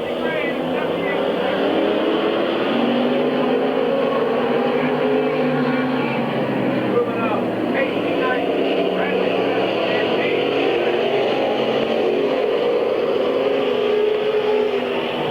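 Stock race cars roar around the oval at Midvale Speedway in a steady, continuous engine drone, with a trackside announcer talking over the noise throughout.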